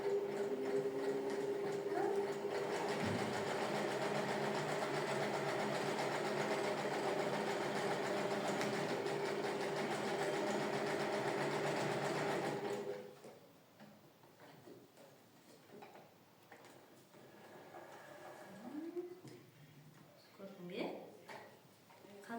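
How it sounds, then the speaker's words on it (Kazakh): Sewing machine stitching a skirt, a continuous fast mechanical whir and tick that runs steadily then stops, followed by quieter talking. "өте қызықты белдемше ойынын тігіп көрсеткім келіп тұр."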